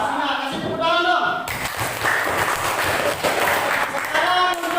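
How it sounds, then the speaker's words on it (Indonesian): Classroom audience applauding a group's presentation: a burst of clapping runs for several seconds after a short stretch of speech, with voices returning faintly near the end. "Sina, kasih tepuk tangan dong."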